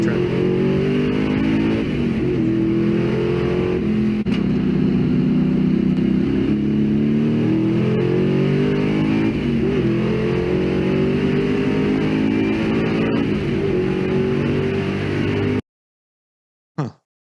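A pickup truck with a six-speed manual gearbox idles with a deep, steady, rumbling engine note, loud and close, running continuously before cutting off abruptly near the end.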